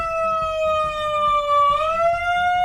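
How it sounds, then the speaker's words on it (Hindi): A loud wailing siren holds a steady pitch, dips slightly, then rises again, close and clear over faint background noise. "अब वो एक सायरन ले आया,"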